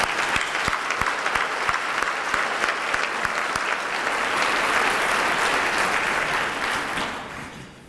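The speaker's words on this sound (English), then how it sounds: "I'd like our police chief and fire chief, if they would stand up and round of applause" Round of applause from a civic audience honoring the police chief and fire chief at a city's state of the city address, a thick sustained burst of clapping with a few sharp claps up front, fading out toward the end.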